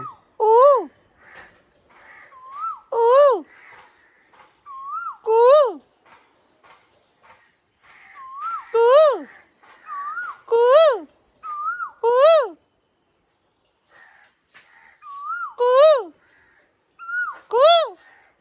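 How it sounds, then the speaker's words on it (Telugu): A koel sings in a home backyard, giving repeated clear, rising whistled calls in short bursts with pauses between them, fairly near and prominent against a quiet background. "కోయిలమ్మ పాడుతున్నది"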